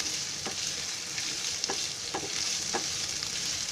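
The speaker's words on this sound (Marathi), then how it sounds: "जरा कोबी शिजायला द्यायचा, जरा फ्राय होऊ द्या." Cabbage fries in a pan at home with a steady, close sizzle, broken by several sharp scrapes and clinks as it is stirred every second or so.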